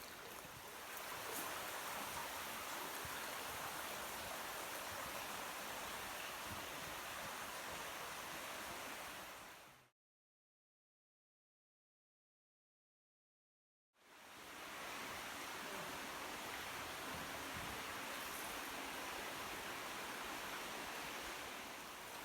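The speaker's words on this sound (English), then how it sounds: "You just got the water running down through here over the almost flat ground." Water running over almost flat rocky ground at El Questro Gorge, a steady broadband rush and wash, fairly loud and close, with a few seconds of complete silence in the middle.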